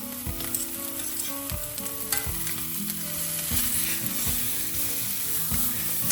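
Steady sizzling of steak frying in a hot pan, with occasional scraping and clinking of a utensil against the pan.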